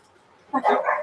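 Dogs bark in a short, close burst of a few yips and barks in a house, starting after a quiet moment and loud against a near-silent background.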